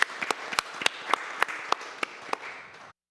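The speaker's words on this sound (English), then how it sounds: "Applause," An audience applauding a guest joining a stage show, a burst of claps with a few sharp louder claps standing out, fading and cutting off after about three seconds.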